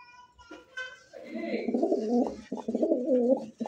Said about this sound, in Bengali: মনে হচ্ছে কোকা কবুতর ডাকতেছে একেবারেই